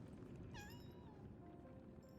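A cat meows once in the video game Lies of P, a single clear, rising and falling meow over a faint low background hum.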